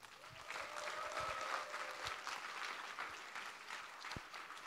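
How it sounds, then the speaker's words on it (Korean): Applause from a church congregation at a Sunday evening praise service, welcoming a worship leader and singer-songwriter to the stage; steady clapping throughout, moderately distant and filling the room. "우리 나오실 때 우리 박수로 환영하겠습니다."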